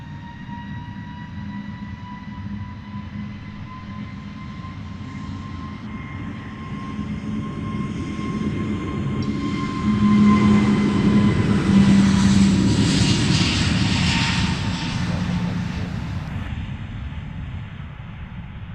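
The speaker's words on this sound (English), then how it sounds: "Clearance for takeoff then for this EasyJet off to Lanzarote." An EasyJet airliner takes off at London Luton Airport, bound for Lanzarote: a steady, broad jet roar with a whining engine tone swells to a loud peak midway, then gradually recedes, heard alone without talk.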